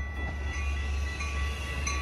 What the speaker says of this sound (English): Milwaukee West Main Line train number 2238 to Chicago Union Station is now arriving